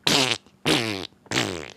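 A voice imitates fart noises as three loud, buzzy, drawn-out blurts, each lasting about a third of a second and separated by short pauses, close to the microphone.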